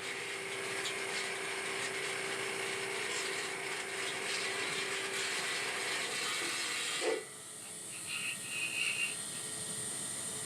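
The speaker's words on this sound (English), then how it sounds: "I'm going to take one quick pass with the grooving wheel" Grooving wheel making a quick pass along a roller chainsaw guide bar in a bar repair shop, a steady mechanical whir with a faint tone that cuts off abruptly partway through, followed by light scraping and clicks.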